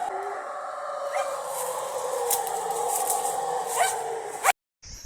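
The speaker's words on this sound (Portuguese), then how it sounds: "Olha o cachorro aí, ó." A dog on a rural homestead in Brazil barks and whines excitedly beneath a chestnut tree, trying to get at howler monkeys. Repeated loud yelps carry over steady outdoor ambience, then break off abruptly near the end.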